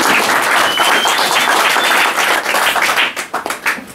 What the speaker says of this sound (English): Big applause for our first speakers.